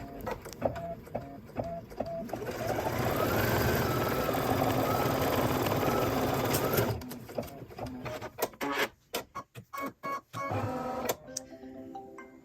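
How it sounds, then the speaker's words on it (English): An embroidery machine stitching through vinyl and felt, a rapid mechanical whirring hum that swells into a dense steady run, then breaks into short stop-start bursts of stitching and clicks. "where we're going to stitch right now is right on top of this, on top of the vinyl, sealing shut, closing up, and stitching up the vinyl and the felt"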